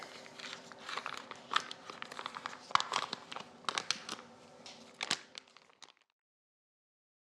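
Plastic packaging around baby back ribs is torn and crinkled open, a busy close crackle of rustling and tearing for about six seconds before stopping.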